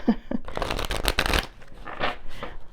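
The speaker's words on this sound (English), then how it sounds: "These cards are new. They're a little difficult to shuffle." New tarot cards riffle and slap together in quick, close shuffling bursts, a crisp papery flutter repeated several times.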